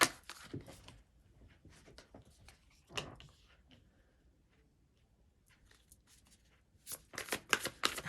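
Tarot cards being shuffled and drawn, with crisp riffling bursts and soft slaps of cards close by, a quiet lull in the middle, then a rapid flurry of flicks at the end.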